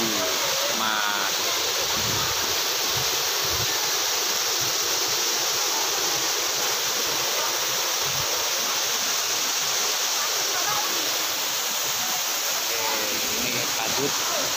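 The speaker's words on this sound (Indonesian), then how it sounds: "Ini yang namanya wisata air terjun Widuri" Widuri waterfall in Grobogan, a natural tourist site, roars as a dense, steady wash of falling water, loud and close without a break.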